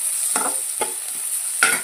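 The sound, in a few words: garlic sautéing in a pan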